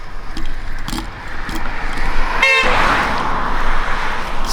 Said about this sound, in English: that honking